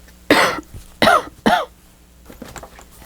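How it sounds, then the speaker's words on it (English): Three loud, harsh coughs come in quick succession close to the mic, followed by quieter throat sounds and breathing. "Excuse me, I got a cough."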